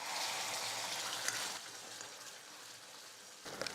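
Ground paste hits hot oil in a pan and sizzles with a soft, crackling hiss, fairly quiet and close, fading slightly before a brief burst of spattering at the end.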